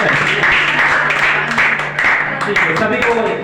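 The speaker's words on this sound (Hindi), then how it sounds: "सभी लोग तालियों की गड़गड़ाहट से एक अतिथि का सम्मान करेंगे।" An audience at a Republic Day gathering claps to honour a guest, a dense, continuous patter of applause with a voice speaking over it.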